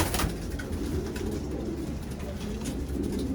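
Racing pigeons coo in a loft, low murmuring calls under a steady ambient hum, fairly close and continuous.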